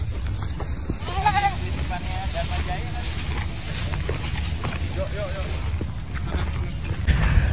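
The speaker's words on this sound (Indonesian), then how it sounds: "sama kambing-kambing." Goats bleat a few times over a loud, steady outdoor background near a Formula E site at Ancol, their cries brief and mid-distance, while a person talks nearby.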